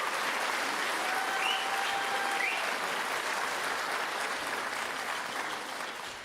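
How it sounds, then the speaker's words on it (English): A concert audience gives a school orchestra a round of applause, a broad, steady wash of clapping that holds evenly before easing slightly at the end. "So give them one more round of applause"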